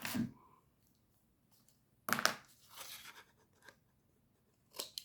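Scissors cut and trim the corners of a card pouch, giving sparse crisp snips and rustles with quiet gaps between them, close and fairly faint.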